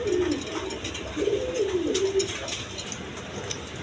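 Pigeons coo close by in soft, low warbling phrases, two or three drawn-out calls over a steady background hum, with no voices.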